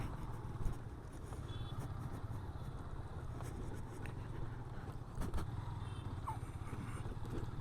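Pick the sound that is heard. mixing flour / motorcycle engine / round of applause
motorcycle engine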